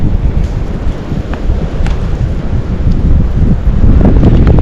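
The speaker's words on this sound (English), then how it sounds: "Getting windy, which is good." Steady wind buffets the microphone outdoors in cold hunting country, with a low, rumbling roar that swells slightly toward the end, with no voices.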